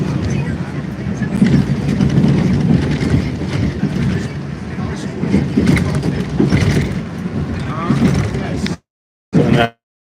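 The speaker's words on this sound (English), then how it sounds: "Another broken down train at Charles MGH." A Red Line subway train runs on the tracks at Charles MGH, a loud, continuous rumble with wind-like roar and rattling carriage noise that cuts out abruptly near the end, returning for a brief burst.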